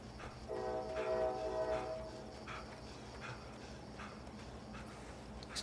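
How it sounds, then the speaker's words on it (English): Trains in the video game Alan Wake's American Nightmare rumble past, with a loud horn blast early on over a steady rail rumble that continues on its own afterward. "These trains are just loud today."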